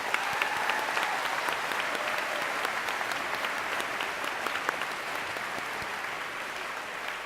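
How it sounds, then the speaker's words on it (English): An audience claps for students at a 2018 high school convocation, a steady, even patter of applause from a large hall crowd lasting throughout at moderate loudness. "Please give these students a round of applause."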